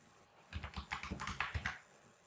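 Quick bursts of keystrokes on a computer keyboard as an item name is typed, a close, rapid run of about a dozen clicks lasting just over a second, alone in a quiet room.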